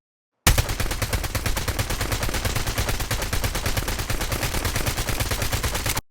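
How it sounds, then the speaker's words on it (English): Continuous automatic gunfire in the mobile shooter Call of Duty Mobile, fired from the hip: a rapid, even stream of close, loud shots that starts abruptly and runs unbroken for several seconds before cutting off. "As you can see, the barrel is less shaky while firing in hipfire mode"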